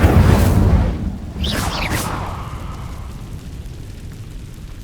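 Incendio fire spell cast in Hogwarts Legacy, a burst of flame with a rushing whoosh that fades into a lingering low rumble.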